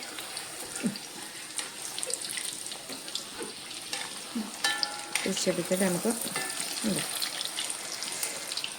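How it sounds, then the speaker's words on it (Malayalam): Onion and potato vada frying in hot oil give a steady, close sizzling hiss with occasional clinks and stirring, while a voice talks over it intermittently. "ഫ്രൈ ചെയ്തെടുക്കാം"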